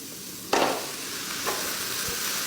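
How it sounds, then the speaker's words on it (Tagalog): Cabbage and carrots stir-fried in a pan over high heat, a low steady sizzle broken by a sharp scrape of stirring and a couple of softer clinks. "Konting gisa-gisa lang."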